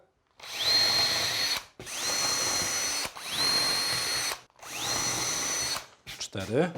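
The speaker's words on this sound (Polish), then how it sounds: "Wiertło najlepiej właśnie z faską nawiercamy sobie." A power drill fitted with a countersink bit bores four 8 mm holes in wood for a vanity table build, four loud sustained whirring bursts separated by short pauses, followed by brief handling noise.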